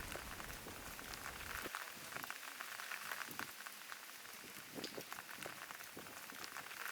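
Steady rain patters and drips from the eaves onto a hard surface nearby, a dense continuous spatter with occasional louder drops, no voices.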